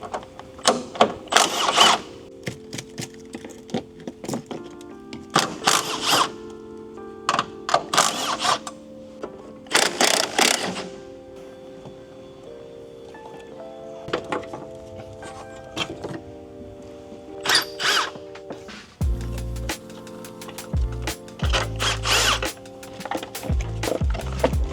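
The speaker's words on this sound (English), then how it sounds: "we're gonna go ahead and take the strut bar off just to give us a little bit more room back here" Hand tools working on the strut bar of a 2006 Acura TSX with a six-speed manual, giving intermittent metallic clanks, clicks and rattles in short bursts, with quieter gaps and a steady tonal hum underneath.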